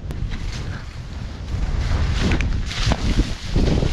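Steady wind roars across a ski slope and buffets the microphone in loud, continuous gusts that swell and ease, with no voices over it.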